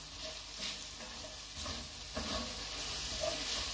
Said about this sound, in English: that squirrel is ready to go into skillet. So I'll just get a quick stir. Them onions are sweating down nicely.